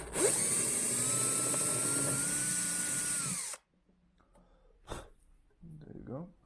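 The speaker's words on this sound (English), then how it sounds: "I need to drill a hole in here." A power drill with a 3mm bit bores a hole into an acoustic guitar's wooden body near the undersaddle pickup, a loud steady high whine for about three and a half seconds that stops abruptly, followed by faint handling sounds and a brief voice.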